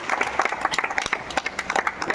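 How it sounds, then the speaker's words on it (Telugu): An audience claps in encouragement for participants at an Indian Oil dealers' event, a lively patter of individual claps with uneven peaks, moderately close and continuous. "అందరికీ కూడా ఫస్ట్ మనం క్లాప్స్ తో వాళ్ళని ఎంకరేజ్ చేయాలి"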